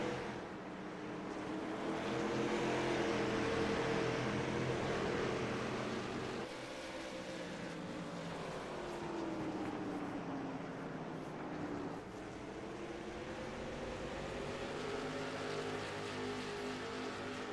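Three race cars run close together around Stafford's oval during the American Heart Association 100, their engines roaring steadily with a pitch that rises and falls as they pass, loud and continuous with no talk.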